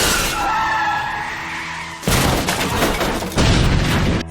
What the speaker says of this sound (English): On the way home, the two have a car accident,